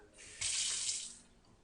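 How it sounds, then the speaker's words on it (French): Water gushing from an opened tap to release the pressure of a domestic water heater, a steady hissing flow that swells after a short start, holds for under a second and then eases off. "Donc vous ouvrez le robinet."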